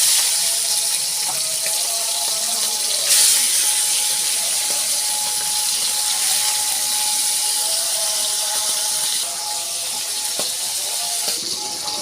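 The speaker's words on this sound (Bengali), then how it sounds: "কড়াইতে তেল গরম হয়ে গেছে, এবার চিংড়ি মাছটা লাল লাল করে একটু ভেজে নেব।" Prawns fry in hot oil in a wok, a continuous loud sizzling hiss that holds steady throughout with a few faint pops and clinks.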